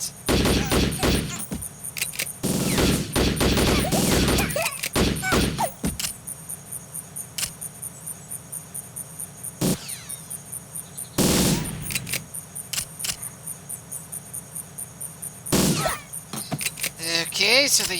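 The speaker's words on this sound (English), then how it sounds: "the assault rifle doesn't sound all that different when it's sped up" Sped-up assault rifle fire from GoldenEye 007 on the Nintendo 64 comes in rapid, clattering bursts of varying length with quiet gaps and a faint steady background tone between them.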